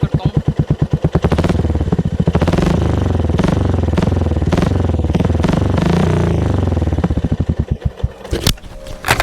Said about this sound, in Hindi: इसकी एग्जॉस्ट नोट की साउंड पहले मैं सुना देता हूँ। तो गाइस स्टार्ट करते हैं अपना इग्निशन।